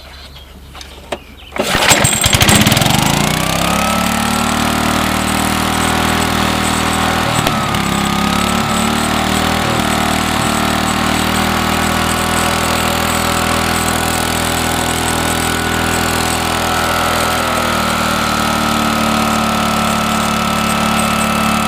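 A Troy-Bilt sickle bar mower with a Tecumseh engine and a dead governor starts after a brief quiet moment, then runs loudly and steadily at a high, racing speed until the end.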